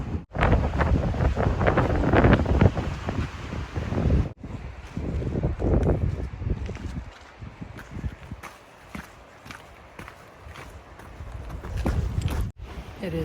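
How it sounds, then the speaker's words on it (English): Strong gusts buffet the microphone on the Tahoe Rim Trail above Washoe Valley, loud roaring bursts that rise and fall across the clip, with brief footstep-like thuds mixed in. "Quite the wind today."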